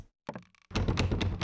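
Locked door rattling in the horror video game Blair Witch: a couple of quick knocking thuds followed by a sustained burst of loud, dense clattering.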